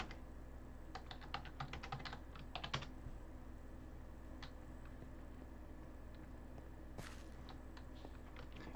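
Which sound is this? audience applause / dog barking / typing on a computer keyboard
typing on a computer keyboard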